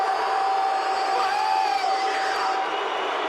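A fight crowd boos a unanimous decision at a mixed martial arts event, a dense, loud and sustained roar of voices that fills the space without pause.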